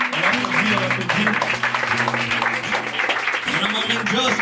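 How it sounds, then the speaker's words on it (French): A live audience applauds the performers at a French music show, with continuous dense clapping throughout and someone talking loudly over it. "On est là pour vous applaudir, s'il vous plaît."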